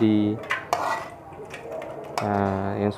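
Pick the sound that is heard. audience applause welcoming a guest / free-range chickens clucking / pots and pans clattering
pots and pans clattering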